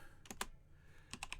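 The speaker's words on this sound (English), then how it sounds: "we'll go ahead and start typing in the example that they gave us, the JavaScript example" Fingers type on a computer keyboard while JavaScript code is entered in the VS Code editor, with two short clusters of quiet, close, clicky keystrokes separated by a brief pause and no speech.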